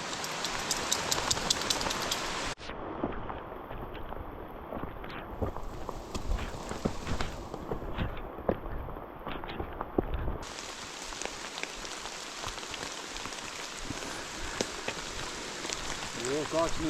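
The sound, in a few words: rain falling in the forest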